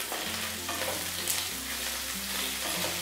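Potatoes being stirred as they fry with cumin in a pan, a steady close sizzle running throughout with a low hum beneath and no talking.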